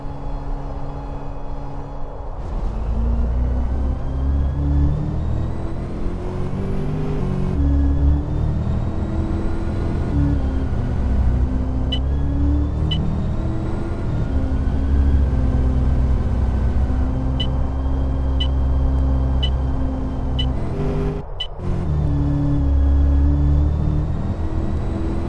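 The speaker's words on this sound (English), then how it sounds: "This bus is ready to depart." A London route 198 bus pulls away and drives on, its engine a steady, close rumble with whining tones that rise and fall as it changes speed. No one speaks.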